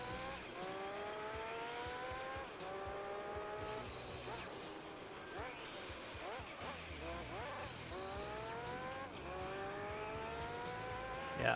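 A race car in the video game Gran Turismo 3 heads into the pit lane: the engine whines and rises through repeated gear shifts, with tyre squeal, while a voice talks over it.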